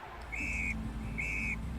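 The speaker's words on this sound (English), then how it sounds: "Hear the whistle?" Two sharp, high ice hockey referee whistle blasts, evenly spaced, ring out over a steady low rumble of crowd and arena noise.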